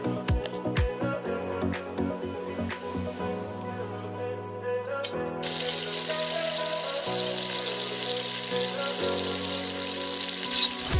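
Banana fritters coated in batter frying in hot oil, a steady crackling sizzle running throughout with a brief spoon clink near the start, loud and close, no talking.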